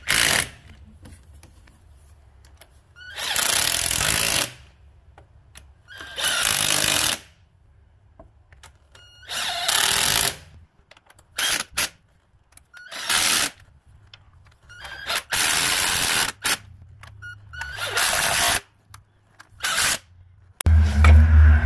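Power tool tightening bolts on a Lexus IS250 engine during valve cover gasket work, loud buzzing bursts of a few seconds each, repeated about eight times with quiet pauses between.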